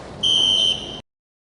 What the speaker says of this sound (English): Maybe I can pull the fire alarm.